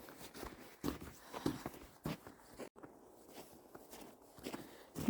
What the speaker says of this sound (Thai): เสียงเดินดังไปนิดนึง